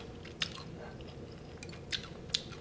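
Crunchy bites into salt and pepper chicken wings, three sharp crunches with faint chewing between them, close and quiet, with no talk.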